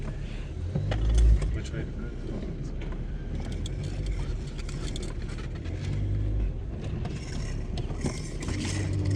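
Volkswagen Golf MK2 car reversing and driving off, a steady low engine hum and cabin rumble heard from inside, with a brief thump near the start and a voice speaking briefly over it.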